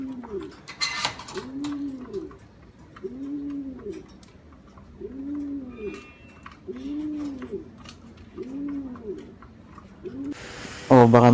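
Several pigeons coo in a slow, repeating rhythm of soft, rounded calls in a breeder and flyer loft, with a brief rustle of wings near the start and a louder burst of movement at the end.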